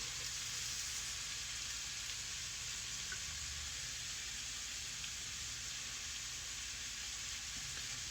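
Minced garlic sizzles in a hot pan for a homemade chicken and shrimp Alfredo, a soft, steady crackling hiss that stays even and quiet throughout with no talking.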